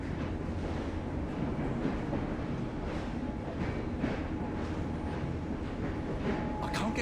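Train rolling steadily in Assassin's Creed Syndicate, a constant rumbling carriage drone with faint rhythmic clatter throughout and a brief high squeal near the end, moderately quiet and heard alone.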